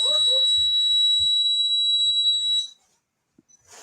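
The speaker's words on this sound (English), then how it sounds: "Let me get this alarm." A house alarm goes off with a loud, steady high-pitched electronic tone that holds for a few seconds and then cuts out, with faint thumps underneath and a brief rustle at the end.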